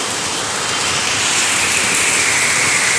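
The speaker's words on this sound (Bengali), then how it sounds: "আবার এই এখন ধারে বৃষ্টি শুরু হয়েছে" Steady, loud rain pouring down continuously, a dense even hiss of falling water with no pauses and no voices.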